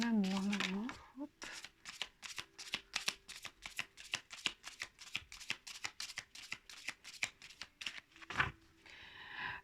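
Tarot cards are riffled and snapped down in a quick, even series of crisp flicks, close and fairly quiet, with a short spoken phrase at the start and a rustle near the end.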